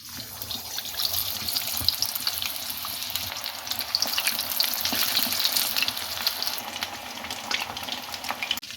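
Chicken drumsticks fry in hot oil in a wok with a steady, close, crackling sizzle that swells slightly in the middle, and no voice over it.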